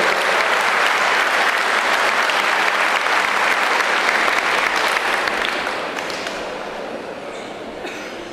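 Audience applause at a closing party convention in Tivat, welcoming the president of the Croatian Civic Initiative to the stage: dense, sustained clapping from a large crowd that holds steady and then tapers off slightly toward the end.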